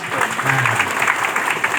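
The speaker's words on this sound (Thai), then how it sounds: "ปรบมือดังๆครับ" A seated audience at a forum on the Kaeng Krachan forest complex claps loudly in a thick, continuous burst, with a faint voice murmuring underneath.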